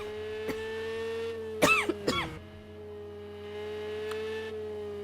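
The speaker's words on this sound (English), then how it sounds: "and the coughing just strikes again," A commentator coughs twice in quick succession, close and sharp, over a steady electrical mains hum, with a fainter throat noise earlier and another soft one later.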